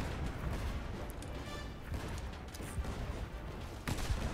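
Cannons fire in a ship-to-ship battle in the pirate game Blazing Sails: a quiet, distant-sounding series of booms and crackling volleys that come in uneven bursts over a constant rumble.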